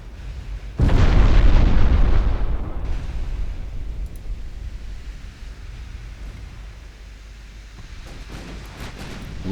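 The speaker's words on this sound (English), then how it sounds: "Can you guys just load HE with your main guns and not waste all the AP?" Warship main guns fire high-explosive shells in the Ultimate Admiral Dreadnoughts game: one loud, close blast that fades into a long rumbling tail, followed by faint scattered pops.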